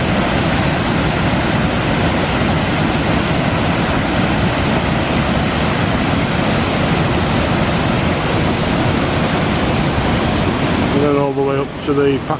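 A fast, swollen river rushes loudly near Packhorse Bridge in Langcliffe, a steady close roar of churning water that fills the whole stretch, with a brief voice breaking in at the very end.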